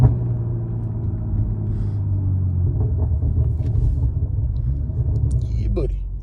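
A 500hp BMW exhaust giving a deep, steady rumble while driving at night, a low continuous drone heard from inside the car with a person talking over it.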